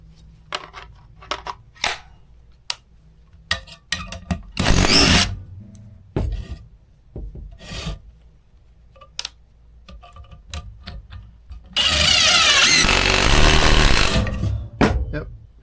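A Craftsman V20 cordless 1/4 inch impact driver hammers a screw until it strips out, two loud sustained rattling bursts close by separated by scattered clicks and handling taps.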